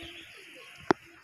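Racing pigeons at a tournament give soft, low cooing, broken by one sharp, brief knock near the end.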